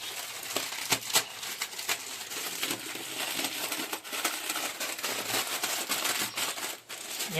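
A Maggi noodles masala packet is torn and handled up close, giving sharp crinkles and crackles in irregular bursts against a continuous background hiss.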